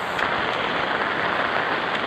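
Heavy, steady rain pours down continuously, a dense hiss of drops striking a surface close by, with no voices.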